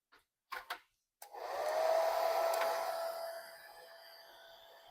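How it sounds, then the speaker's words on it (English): A blow dryer on its lowest setting whirs steadily over a painting after a couple of brief knocks, its hum fading lower toward the end. "Hopefully everybody has a blow dryer. You put it on the lowest setting."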